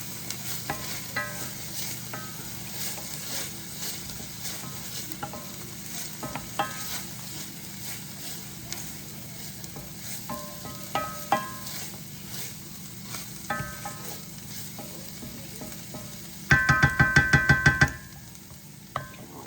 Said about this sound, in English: I'm gonna mix this in for about 30 seconds.